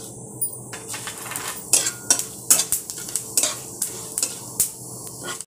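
Fennel seeds, bay leaves and dried chillies crackling in hot oil for Bengali-style urad dal, a close sizzle with repeated sharp metallic clinks and scrapes of a spoon against the pan.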